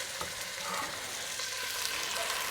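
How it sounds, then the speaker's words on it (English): Diced ham and onion frying in a pan, a steady, fairly quiet hiss of sizzling fat that runs on evenly without speech. "So we're just going to fry that off a bit, defrost that ham."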